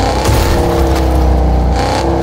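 A vehicle engine in the video game Fortnite runs loud and steady throughout, a continuous revving drone with a brief swell near the start and again toward the end.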